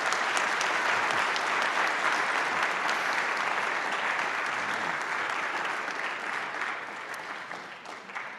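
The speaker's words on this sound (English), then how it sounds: "Let's give them a round of applause." Audience applause for a panel at a substance use and alcohol abuse awareness event, a dense, sustained clapping from a large crowd that fades slowly toward the end.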